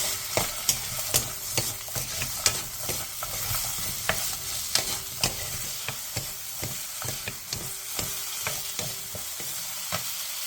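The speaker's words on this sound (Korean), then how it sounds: "팬에 기름을 두른 뒤 감자와 소금 1티스푼을 넣고 중약불에서 3분 정도 볶아주세요." Potatoes with salt are stirred in an oiled pan over medium-low heat, giving a soft continuous sizzle broken by repeated close scraping clicks of a utensil, with no voices.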